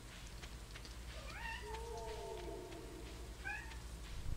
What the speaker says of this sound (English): Cat's meowing at the freaking door.